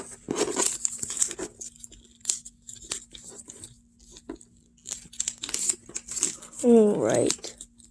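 Paper rustles and crinkles in short, soft bursts, close up, as it is folded for an origami elephant head, with a brief voice-like sound near the end.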